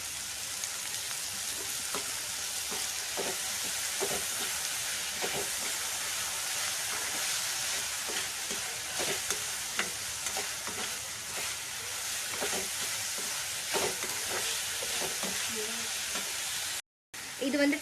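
Ginger garlic paste fries in a pan while Gobi Manchurian is cooked, giving a continuous bright sizzle broken by frequent scraping stirs of the spatula, close and loud throughout before a brief cut near the end.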